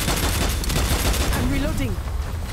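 Dense rapid gunfire in the Strange Brigade video game during a boss fight, loud continuous bursts of shots layered with game effects and a brief voice-like tone partway through.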